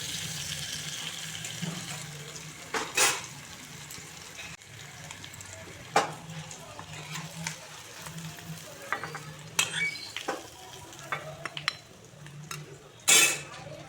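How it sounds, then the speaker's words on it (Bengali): Potatoes fry in a pan for a cauliflower and potato dish with fish, stirred with a utensil that clinks and scrapes against the metal in irregular bursts over a steady soft sizzle, close and moderately loud. "আলুগুলোকে একটু লাল লাল করে ভেজে নিচ্ছি।"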